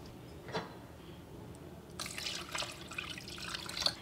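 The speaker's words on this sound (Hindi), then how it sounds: "अभी बहुत गर्म है, हमें इसको अभी ठंडे पानी से वॉश करना है।" Freshly squeezed chena curds being rinsed in cold water: a single soft drip, then gentle splashing and trickling water that continues quietly in short bursts.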